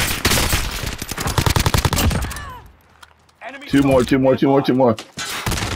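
Rapid bursts of automatic gunfire in the Call of Duty Modern Warfare video game, loud and close for about two seconds, then a pause before voices talk over the game sounds.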